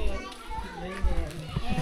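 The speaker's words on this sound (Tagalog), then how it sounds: "Kita mga bata dito" Many children shout and play among seaside houses by the shore, a busy, continuous jumble of young voices and chatter close by.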